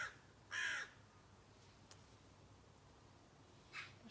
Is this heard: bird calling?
yes